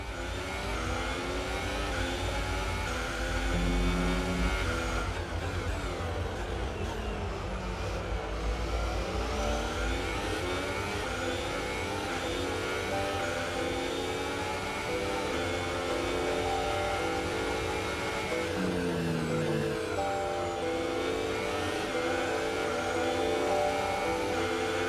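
Racing car engines from a sim racing game at a Bahrain circuit, a continuous loud drone of several cars revving, shifting and accelerating, pitch rising and falling as they pass, with no talking over it.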